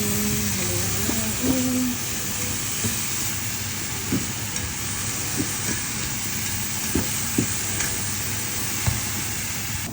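Mushrooms stirred in a frying pan for mushroom bourguignon: a steady low sizzle with scattered scraping clicks from a utensil, and a voice briefly at the start.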